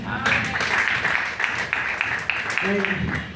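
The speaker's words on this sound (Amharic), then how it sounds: "እስቲ አጨብጭቡ" A church congregation claps along at a sermon gathering, a rapid crowd of hands under lively talk and calls, with sharper clap bursts recurring roughly every half second before a voice rises near the end.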